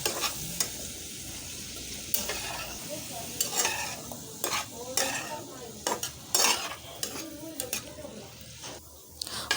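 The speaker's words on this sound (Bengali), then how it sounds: "এখন আমি এটাকে ভালো করে ভেজে নেব আর ভাজার মধ্যেই সিদ্ধ করে নেব।" Cauliflower pieces with salt and turmeric fry in a pan with a steady sizzle, while a utensil stirs and scrapes them in repeated close, clattering strokes.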